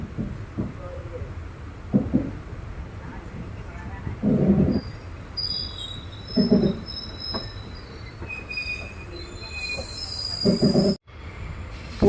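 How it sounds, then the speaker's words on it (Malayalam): A train pulls out of Punalur railway station on its way toward Nagercoil, wheels thumping over rail joints in spaced clunks, with faint squeals and a rumbling ride close by. "നമ്മുടെ ട്രെയിൻ അങ്ങനെ കൃത്യം 6:35 കറക്റ്റ് സമയത്ത് തന്നെ നമ്മുടെ പുനലൂർ റെയിൽവേ സ്റ്റേഷൻ അങ്ങനെ അപ്പം പുറപ്പെട്ടിരിക്കുകയാണ്."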